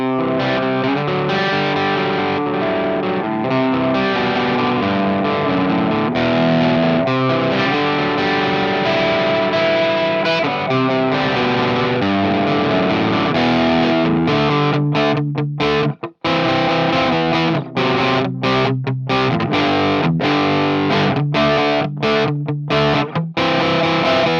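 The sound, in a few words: electric guitar through tube amp, low gain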